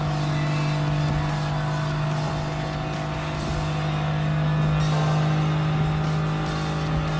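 A Honda S660 racing in Gran Turismo Sport, its small engine droning continuously at a steady pitch, loud and close throughout with no break.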